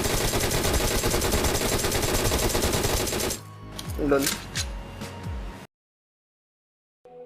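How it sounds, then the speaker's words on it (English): Sustained automatic gunfire in PUBG Mobile, a dense rapid burst of loud shots for about three seconds, followed by scattered softer shots and game sounds before falling silent. "you will make a gunfire sound which will reveal your intel or location"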